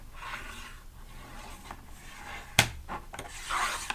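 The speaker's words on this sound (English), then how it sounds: "So I am just going to spread that glue" Glue being spread with a spatula, heard as soft, smeary rubbing and scraping strokes close by, with one sharp knock midway and no talk.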